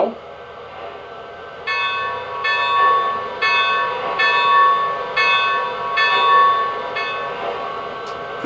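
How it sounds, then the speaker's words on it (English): Model bell on an American Flyer Y3 locomotive rings in a steady repeating clang, about eight strikes at an even pace after a quiet start, close and clear with no talk over it. "The bell."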